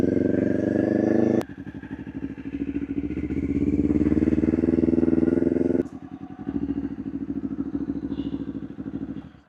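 A motorcycle engine pulls away in first gear on a hill, a close, loud pulsing exhaust that rises in revs and then drops abruptly as the gears change.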